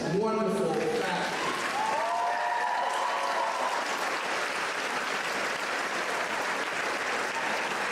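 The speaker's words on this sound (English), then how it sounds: "turn this direction and applaud these wonderful facts" Graduation audience applauding at a 2015 high school ceremony, a dense sustained wash of clapping throughout, with a speaking voice at the start fading under it.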